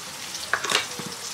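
Garlic for seasoning broccoli sizzles in a hot frying pan, a short crackling burst rising over a steady hiss of frying before settling back, heard up close with no one talking.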